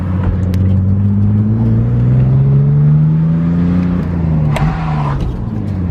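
BMW E46 325i drift car driven with a hydraulic handbrake, engine close and loud with a rising then falling drone as the car accelerates and slows, with brief sharp knocks near the end.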